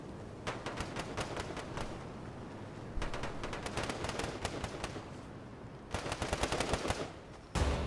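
Gunfire in the video game Fortnite: rapid bursts of shots come in several volleys, moderately loud against a steady background rumble.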